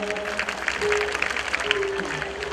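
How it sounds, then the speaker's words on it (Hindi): An audience claps together at a Sai bhajan evening in Amroha, a dense, moderately loud patter that runs through the whole moment while a voice speaks faintly over it. "ताली बजाओ"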